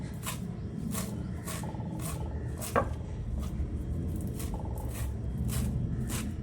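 Fenugreek leaves and coriander being finely chopped with a knife on a board, a steady run of soft, quick taps repeating across the clip over low background rumble, with no talk.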